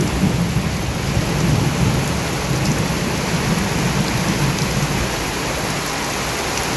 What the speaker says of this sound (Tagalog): pag may kidlat, kasunod ay kulog.